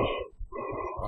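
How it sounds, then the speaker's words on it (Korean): Breathing in a Japanese horror video game: a short, raspy, close breath that is cut by a brief pause and then resumes. "숨소리 뭐죠?"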